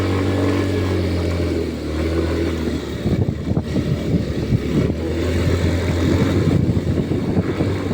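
A motorcycle engine labours as it climbs a steep uphill stretch, a steady low drone turning rough and uneven partway through, close and loud throughout with no voices.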